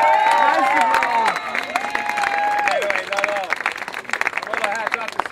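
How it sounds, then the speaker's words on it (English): Crowd at a hosted dinner event claps steadily for the host, with several voices talking and cheering loudly over the applause throughout. "please give a warm round of applause to Jonathan Waxman, one of my dearest friends and an amazing cook"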